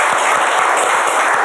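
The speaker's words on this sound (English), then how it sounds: "Can we give them a round of applause?" An audience at a coaching café event gives a steady round of applause, dense clapping filling the whole moment without any voices.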